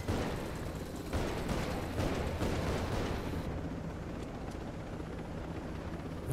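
A helicopter flies in the video game Ghost Recon Breakpoint, a steady, dense rotor-and-engine roar that fills the whole clip at moderate level, with no talking over it.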